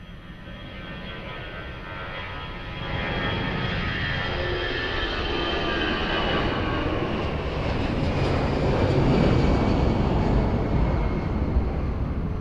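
An airplane takes off from runway 02 at Lisbon Airport, its engine roar building from a distant drone into a broad, rising rush that grows louder and fuller as it accelerates.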